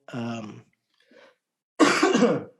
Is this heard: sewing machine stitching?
no